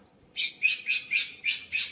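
Green leafbird (cucak ijo) chirping in a steady series of six bright, clear calls about a quarter second apart, preceded by a short high whistle, close and alone with no voices.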